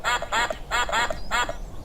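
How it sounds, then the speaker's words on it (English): Ducklings in the Peppa Pig cartoon give five quick, bright quacks in a bouncy rhythm, close and clear, with no talk. "Quack, quack"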